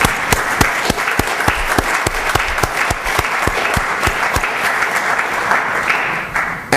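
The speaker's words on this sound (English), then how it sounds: "If so, please give me a hand clap." A crowd applauding steadily, dense overlapping claps with a few sharper individual claps standing out, fairly loud and close throughout.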